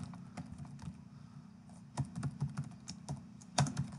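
Fingers type on a computer keyboard in quiet, uneven bursts of close keystrokes, pausing and then picking up again with a few sharper taps.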